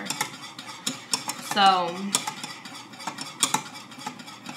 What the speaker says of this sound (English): But you just want to keep stirring this.